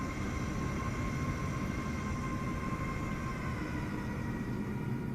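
A Cessna's engine drones steadily on a runway in a flight simulator, a constant even hum with faint tonal whine and no talk.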